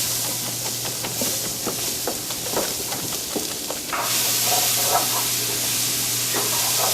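Chopped onions hit a smoking pan of extra virgin olive oil, bursting into a loud, steady sizzle with a faint hum beneath. The hiss swells once they land and crackles on without pause.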